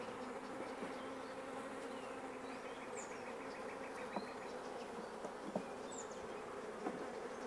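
Honeybees buzzing at a strong beehive, a dense, continuous hum with individual bees droning past now and then, fairly quiet and steady throughout.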